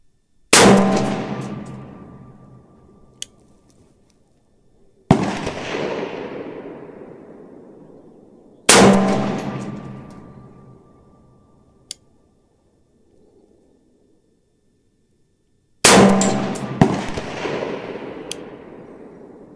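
Four loud rifle shots from 77 grain Sierra MatchKing handloads fire at a range during load testing, each a sharp crack with a long echoing decay, spaced several seconds apart, with faint clicks between them.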